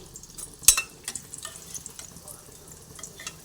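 Beet cutlets frying in hot oil and being lifted out one by one, a faint steady sizzle with a sharp clink of a utensil against the pan and a few soft scrapes.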